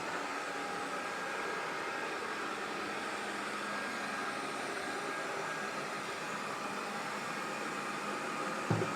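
An ERABROS RS1 robot vacuum cleaner runs indoors with a steady, fairly quiet whirring hiss that holds constant throughout, with a small bump near the end.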